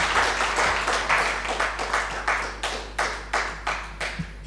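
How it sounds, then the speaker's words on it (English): An audience at the launch of a university computing and engineering school claps for itself, with scattered, fairly close applause that thins into separate, evenly spaced claps over a steady low hum. "Can you clap for yourselves?"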